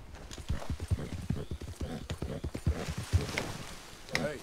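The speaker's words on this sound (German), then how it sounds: "Jetzt darf mein Pferd aber wirklich kommen." Horse hooves clip-clop in a steady, uneven rhythm, fairly close, with a brief snort near the end, in the video game Red Dead Redemption 2.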